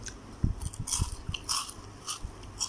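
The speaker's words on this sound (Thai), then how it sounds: "ปลาทอดกรอบพี่น้อง ปลามูนนี่ปลาน้ำมูนแม่ส่งมาให้ ว่างเสียงมันพี่น้อง" Close, crisp crunching bites and chewing of crispy fried Mun River fish, several sharp crackles in quick succession, recorded near the mouth with faint background hiss.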